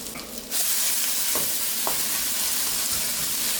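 Tuna burgers fry in a pan with a steady, close sizzle that jumps louder after a brief scrape as they are turned, continuing evenly with a few soft clicks.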